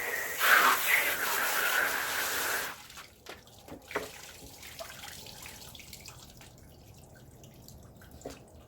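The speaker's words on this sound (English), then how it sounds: "I just rinse out the old water and then I set it back upright" Running water splashes loudly for a couple of seconds as an ice barrel tub is rinsed out, then stops, leaving scattered drips and faint handling noises in a quiet room.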